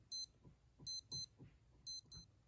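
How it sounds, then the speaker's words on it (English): A Casio DW-5200 or DW-5600C digital watch gives five short, high electronic beeps as its mode button is pressed, spaced irregularly over a couple of seconds with faint handling clicks between them. "Notice every time I press the mode button, you hear a beep."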